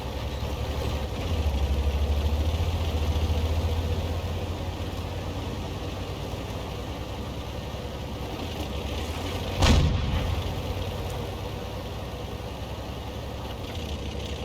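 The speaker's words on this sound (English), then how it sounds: "And now we got engine noise." A steady low tank engine rumble idles throughout in a video game, with one sharp distant bang near the end, no voices.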